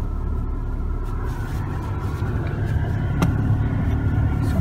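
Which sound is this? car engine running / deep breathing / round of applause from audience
car engine running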